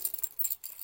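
Keys jangle as they are pulled from a backpack, a brief, faint, close metallic rattling with a few small clinks and no talk.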